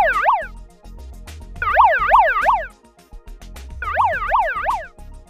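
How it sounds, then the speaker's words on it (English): Evacuation alarm siren at SAPA Elkhart, an electronic wailing tone sweeping rapidly up and down in repeated bursts of about a second, loud and close, with short pauses between cycles. "The evacuation alarm sounds like this."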